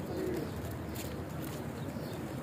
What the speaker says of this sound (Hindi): ये देखें माशाल्लाह कितने कबूतर हैं मस्जिद ऐशा में।